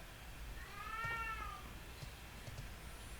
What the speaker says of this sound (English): And is that a cat or a baby?